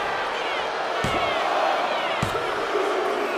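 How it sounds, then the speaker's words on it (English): Crowd cheering for a pin cover attempt in the WWE 2K26 wrestling video game, a steady loud roar that fills the arena, with two sharp slam-like hits and commentary-style speech faintly in the mix. "A deafening cheer for going for the cover."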